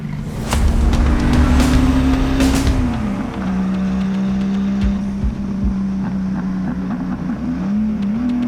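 A 420 HP 1982 Porsche 911 engine revs loudly and up close. The strong engine note drops in pitch, then holds a steady drone with small rising blips.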